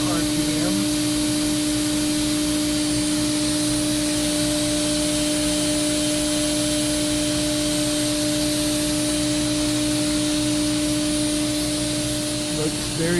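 A 2013 Mazak HCN 4000-III horizontal machining center runs its spindle at 18,000 RPM. It gives a steady, loud whine with sustained pitched tones over a constant airy hiss for the whole stretch.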